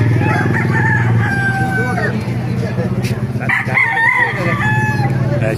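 Several roosters crow in overlapping calls, loud and close, with repeated drawn-out cock-a-doodle-doo phrases over a low background hum, while people talk nearby.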